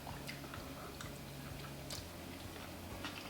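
Someone chewing a mouthful of homemade chicken chow mein with noodles and slightly crunchy cabbage: soft, wet mastication with small crisp bites, close to the mic over a low steady hum.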